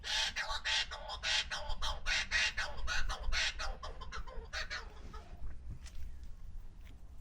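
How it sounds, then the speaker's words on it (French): Four or five parrots in Glenworth Valley squawk loudly and continuously in a dense, raucous chorus of repeated harsh calls, thinning out toward the end. "On a 4 ou 5 perroquets."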